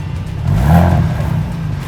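A 2024 Ford Bronco Raptor engine revs once through its exhaust in Quiet mode, rising and settling back to a steady rumble, fairly muted and close by.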